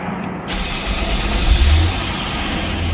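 A Renault Samsung SM525V engine with excessive fuel consumption catches and settles into a steady running rumble, rising to about 2000 rpm midway before holding a constant idle near 1400 rpm.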